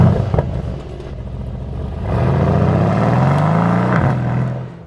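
Mercedes-AMG C63 engine rises from a steady rumble into a loud, sustained rev with climbing pitch, dropping briefly near the end before settling, heard up close with no talk.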